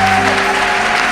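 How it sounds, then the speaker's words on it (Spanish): Church congregation applauding the Lord during a Spanish-language Sunday service, a dense, steady wash of clapping that fills the whole moment, with a sustained musical tone ringing underneath. "Denle un aplauso al Señor."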